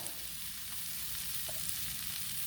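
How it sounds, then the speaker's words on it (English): Chicken frying on a Blackstone griddle gives a steady, even sizzle with a faint hiss and a few small pops, moderately quiet and heard on its own. "So I'll let you take a break while the chicken's cooking"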